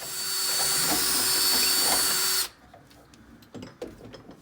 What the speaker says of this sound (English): Right now we're just drilling a hole so that the electrical for the power strip can get plugged in